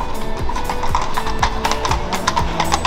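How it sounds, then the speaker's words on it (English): Horses clip-clop past on a street in Vienna, Austria, their hooves striking in a steady, close rhythm over constant city background noise. "And there's just horses going by"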